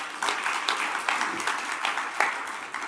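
Brief applause from a conference audience for a speaker on a geopolitics panel, a short burst of scattered clapping at moderate level.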